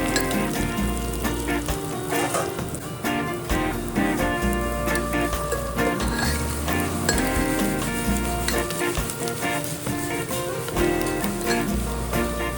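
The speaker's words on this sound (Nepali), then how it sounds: "प्याज डढ्न नदिनलाई बेला बेला चलाइरहनु पर्छ।" Onions frying in a pan give a loud, continuous sizzle with the scrape and clatter of stirring, heard under prominent background music with a thumping bassline.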